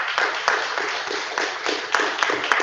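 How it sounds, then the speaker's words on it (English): Church audience applause for volunteers, a short burst of moderately loud clapping with a few sharper claps standing out. "Let's give them a big round of applause"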